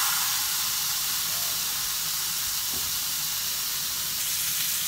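Rolled pork belly for adobo chashu sears in a hot pan, giving a steady, close hiss and sizzle that holds level throughout with no talking.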